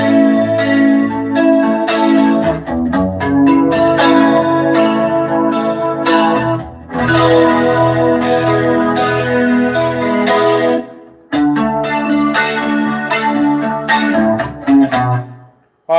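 An electric guitar runs through TC Electronic, Source Audio, Wampler and Boss pedals set for reverb and chorus, ringing chords played alone and shimmering, with brief gaps between phrases and the last chord cut short.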